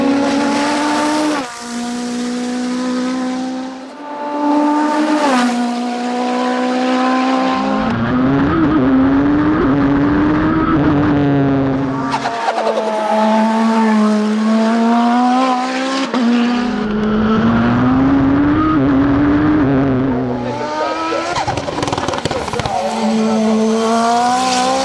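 A rally race car screams along a mountain road at high speed, its engine loud and close, rising in pitch through long pulls and dropping sharply at each gear change, over an unbroken roar of wind and road noise.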